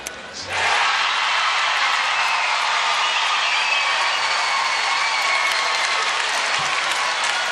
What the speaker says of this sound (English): You'll hear a roar if it's safe.